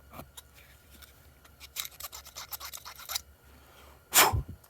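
A torch tip cleaner scrapes and rasps inside a small jet of a snowblower carburetor, a run of quick close scratchy strokes followed by one short louder burst, with no talk.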